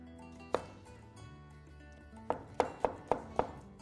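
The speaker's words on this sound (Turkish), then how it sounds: "Kuşbaşı şeklinde doğrayalım." A knife cuts a tomato into cubes on a board, giving one sharp knock followed by a short run of four or five evenly spaced chops, close and fairly quiet against a faint tonal background.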